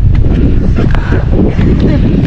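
Wind gusts across the microphone at a high, cold spot near Km90 Little Baguio, a loud steady rumble with brief buffeting, with people talking nearby.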